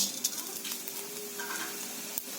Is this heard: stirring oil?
yes